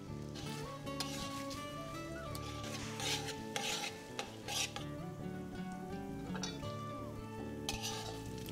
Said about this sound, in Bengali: চালটা ভাজবে যতক্ষণ না রঙটা স্বচ্ছ হয়ে আসে।